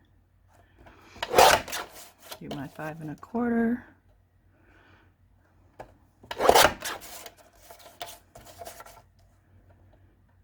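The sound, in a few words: paper trimmer cutting cardstock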